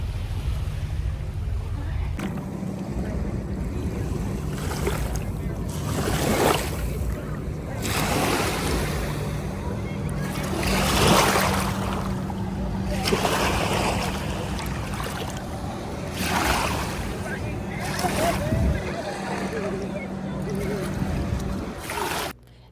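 A small boat carries passengers across open water back to the Disney Magic cruise ship, with steady rushing wind and water surf throughout and voices talking now and then over the noise.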